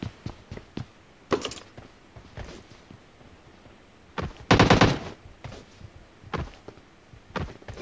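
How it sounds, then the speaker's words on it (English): Gunfire in PUBG Mobile, a battle royale shooter: scattered bursts of automatic shots crackling out from the flats. Short volleys alternate with single pops, the heaviest burst landing about midway, with no voices over them. "Shots in the flats."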